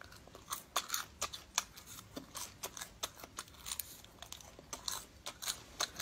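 Cicada nymphs eaten as food in China are chewed up close, giving a steady run of crisp, crunchy bites and crackles in an irregular rhythm, with no voices.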